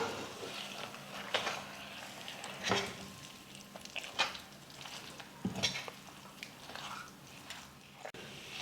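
Ghee-roasted cashews and cardamom powder stirred into halwa, with soft scraping and spoon taps against the pan and a faint sizzle underneath, spread irregularly and fairly quiet.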